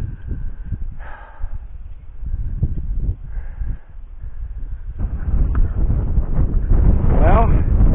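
Strong wind gusts blow across an open hay field, a loud, steady roar with buffeting on the microphone and a few brief rustles and thumps.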